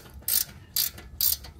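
Ratchet loosening a bolt on a BMW E46 M3 steering knuckle, three short sharp clicking bursts in an even rhythm, close and distinct against a quiet background.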